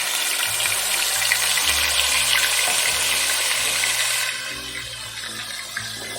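Onion paste dropped into hot oil for a Bengali fish curry, giving a loud, steady broadband sizzle that abruptly softens partway through and continues more quietly.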